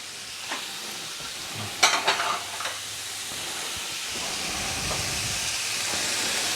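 Bacon frying in an all-in-one camping pan, a steady sizzling hiss throughout with a few louder bursts of crackle and scraping as it is stirred about, close and without talk.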